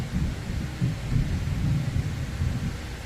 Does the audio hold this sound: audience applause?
no